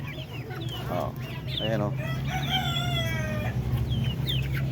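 Darag native chickens on a free-range farm cluck and a rooster crows nearby, with several calls overlapping in short bursts against a low steady hum, while someone speaks briefly.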